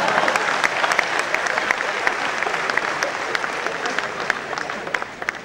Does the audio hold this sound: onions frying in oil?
no